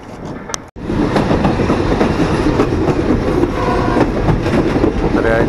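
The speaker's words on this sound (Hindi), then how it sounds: "हमारी ट्रेन भी चल रहेगी।" Passenger train running from Lahore to Rawalpindi, a loud constant rumble and rattle from inside the carriage with clattering wheels on track, a brief dropout near the start, and faint voices beneath.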